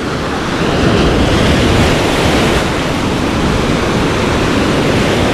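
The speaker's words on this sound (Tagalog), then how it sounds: "Kahirap apakan yan, lakas ng alon." Strong ocean surf crashes steadily at a river mouth, a loud continuous roar of churning water with wind buffeting the microphone and no voices.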